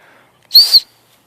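A hand-carved wooden bushcraft whistle with an adjustable notch gives one short, shrill, high-pitched blast of about a third of a second, close and clear against near silence.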